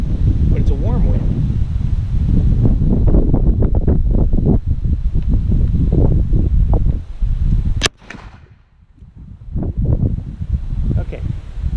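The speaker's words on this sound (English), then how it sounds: "The wind is really low, but it's a warm wind." Warm, light wind buffets the microphone at an outdoor shooting range in a continuous rough rush, broken near the end by one sharp, loud shot from a .44 Magnum Super Blackhawk revolver, followed by a brief lull.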